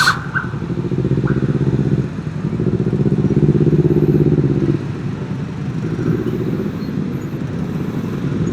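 Kawasaki Z250 motorcycle fitted with a racing exhaust, ridden in traffic, heard from the rider's seat: a loud, steady engine drone that swells and eases as the throttle changes, with no talking.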